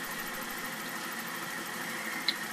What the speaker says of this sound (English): The engine is a four-cylinder green steam engine.